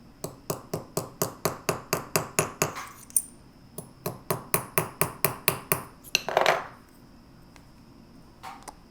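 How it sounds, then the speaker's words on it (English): Rapid, evenly spaced metallic hammer taps ring out in two bursts, a pause between them, close and crisp with a brief scraping noise near the end, as a hammer sets a tube rivet in enameled earrings. "I just hit it with the hammer"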